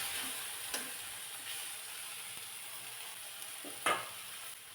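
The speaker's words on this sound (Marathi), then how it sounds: "पुन्हा हे मी चांगलं परतून घेतलं" Moringa leaves sautéing in a pan, a steady close sizzle and hiss lasting throughout, with a couple of sharp clicks from stirring and no talking.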